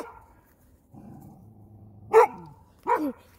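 A dog barks outdoors at night: a whine and low growl, then two loud, sharp barks close by, with no talking.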